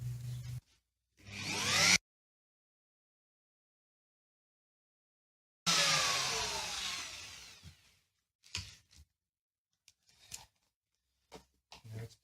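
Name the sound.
router cutting pickup cavities in a Telecaster guitar body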